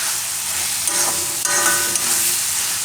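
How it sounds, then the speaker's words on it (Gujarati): Onion and tomato cooking in oil in a pan, giving a steady loud sizzle with occasional stirring scrapes and no voices. "તો આ રીતે એનું તેલ છૂટું પડવા માંડે ત્યાં સુધી પકાવી લેવાનું."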